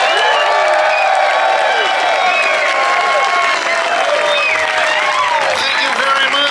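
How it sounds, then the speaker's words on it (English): Festive comedy show crowd giving a loud, sustained welcome to a comedian, dense clapping mixed with cheers, whoops and shouts filling the room, close and continuous. "I need you to give the warmest welcome, the biggest applause, the most support for the hilarious Andrew Heaton."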